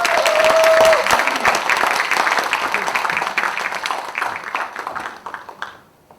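Applause from an audience at a Justice Party (정의당) Incheon joint campaign rally for deputy leader candidates, a dense clapping crowd loud at first and gradually fading out over several seconds.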